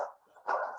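A dog barks twice in quick succession, fairly close and loud, the second bark longer and rougher than the first, with no other sounds around it.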